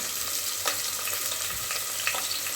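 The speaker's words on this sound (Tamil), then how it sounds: "கடாயில் திரும்ப எண்ணெய் கொஞ்சம் ஊற்றிட்டு சோம்பு, பட்டை தாளிச்சிட்டு வெங்காயம் போட்டு நல்லா வதக்கிக்கலாம்." Onions frying with fennel seeds and cinnamon in oil in a kadai for a vegetable egg kurma, giving a continuous close sizzle with occasional soft stirring clicks throughout.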